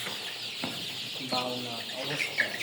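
Sonali chickens squabble and cluck nearby, with short clucks and a few sharper squawks over steady farm background noise.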